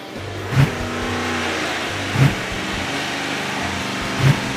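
Car engine on a dyno during its final pull with an EFI fuel pump fitted, a loud sustained revving roar with three brief bursts spaced about two seconds apart and no talking.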